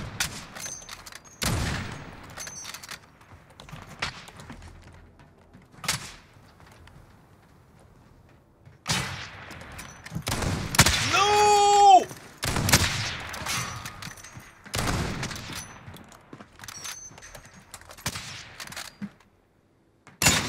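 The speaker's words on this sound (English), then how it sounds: "I shot about 6 shots at you just then" Rapid gunfire in an online multiplayer shooter, several sharp bursts and single shots spread across the stretch, loud and close with quieter gaps between volleys.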